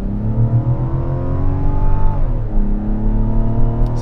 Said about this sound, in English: See, that was a lazy shift.